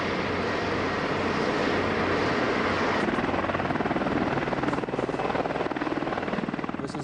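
Boeing AH-64A Apache attack helicopter of the US Army flying, a loud steady rotor roar with a throbbing beat that holds throughout and grows slightly choppier in the later seconds.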